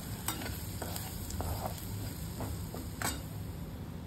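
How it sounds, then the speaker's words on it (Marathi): Turmeric and red chili powder sautéed in a pan for pickled citron, giving a steady close sizzle of frying with scraping stir strokes at irregular intervals, no voices. "चांगलं परतलं"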